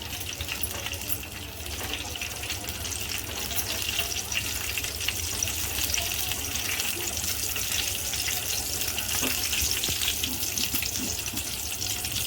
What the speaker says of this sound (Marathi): याच्यात जो आपण मेवा जो सगळा कट करून घेतला ना बारीक असा तो सुद्धा भाजून घ्यायचा या तुपावरती मस्त खरपूस असं भाजून घ्यायचं आहे